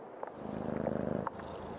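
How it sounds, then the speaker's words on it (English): A frightened cat purrs in the horror video game Creepy Tale 2, a soft steady rumbling purr with a faint rhythmic pulse, quiet and close, no talking. "The poor thing is scared out of its mind."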